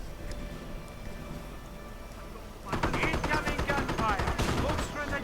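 Gunfire in a World War II real-time strategy game: after a quiet stretch of battle ambience, rapid machine-gun bursts and rifle shots erupt and continue steadily, loud and close, with a commentator's voice underneath.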